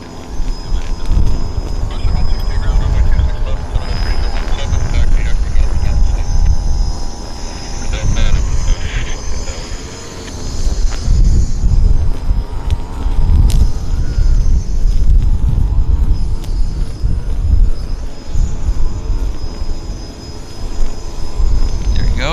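Air North Boeing 737-800 airliner beginning its takeoff roll at Vancouver airport, a loud sustained jet roar that swells and fades with background noise, heard from a distance.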